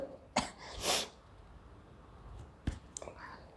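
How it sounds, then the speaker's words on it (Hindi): A woman gives a brief cough, one short burst near the start and another about a second later, followed by faint breathy sounds and small clicks in a quiet room. "खांसी आ गई।"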